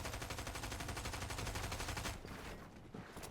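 Gunfire from the video game Fortnite sounds as a rapid, evenly spaced burst of loud shots. It stops abruptly and leaves a quieter stretch with a few scattered clicks.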